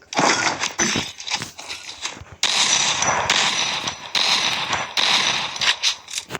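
Gunfire in a shooter video game comes as loud, rapid bursts of shots separated by brief pauses, repeating across the whole stretch.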